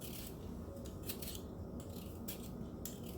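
Potatoes are peeled by hand for potato soup, giving quiet repeated scraping strokes of a peeler against the skins, close and faint.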